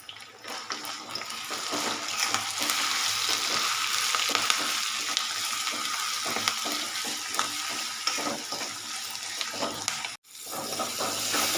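Drumstick leaves fry in a pan with turmeric and salt for an egg fry, giving a steady, loud broadband sizzle that runs unbroken with no talk, apart from a brief dropout near the end.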